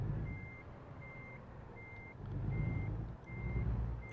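A semi truck with trailer reversing in American Truck Simulator, its backup alarm beeping in a steady repeating pattern of about six evenly spaced tones over a low diesel engine rumble that swells midway.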